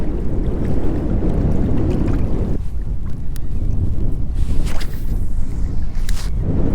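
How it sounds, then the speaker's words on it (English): Strong wind buffets the microphone out on open water near Corpus Christi during kayak fishing. It roars loud and steady throughout, with a gustier rumble easing partway and faint splashes and knocks toward the end. "the wind has dramatically increased"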